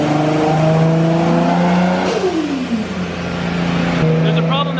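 A built Nissan Skyline with a turbocharged RB25 engine revs hard and bangs against fuel cut, the loud held note sagging, then climbing again, with a voice talking over it.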